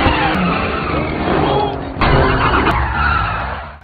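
A car skids and screeches through a stunt-style parking manoeuvre during a film car chase, tyres squealing loudly over revving engine noise with a sharp jolt midway.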